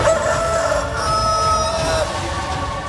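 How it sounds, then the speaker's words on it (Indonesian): A rooster crows loudly and close up in one long, sustained call that fills the whole moment, with no other sounds competing. "Bila engkau mendengar suara ayam jantan"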